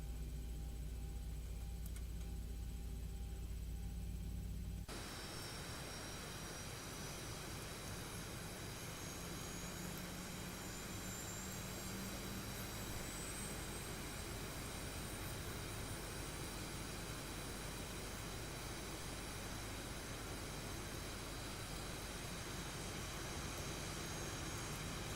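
Boeing 737-800 jet engines running steadily in the X-Plane 12 flight simulator, a constant broadband whine and rumble that kicks in after a quieter start and continues evenly throughout.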